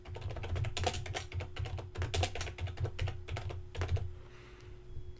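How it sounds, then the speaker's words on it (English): Fingers type on a computer keyboard in quick, uneven clusters of clicking keystrokes, close and fairly quiet, with no voices. "for title, I'm going to type in Bright Brain Creative"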